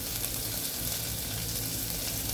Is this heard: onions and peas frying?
yes